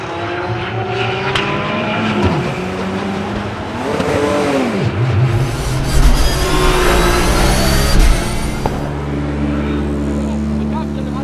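Race cars circuit the Anneau du Rhin track, loud engines droning and revving with rising and falling pitch as cars pass close, with a commentator talking throughout.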